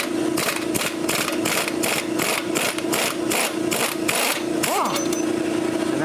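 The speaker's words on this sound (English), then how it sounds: "I'm going to try to rattle these loose with my air gun." A pneumatic air gun rattles nuts loose on a Harbor Freight woodchipper blade in rapid, loud bursts of hammering, with an air compressor droning steadily underneath.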